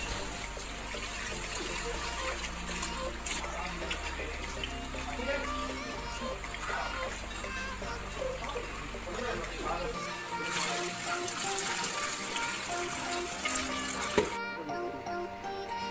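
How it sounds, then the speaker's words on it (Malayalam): Biryani rice is washed by hand in water, with close sloshing, splashing and trickling throughout, partly under a voice and background music. "ഇനി ബിരിയാണിക്കുള്ള അരി കഴുകുക"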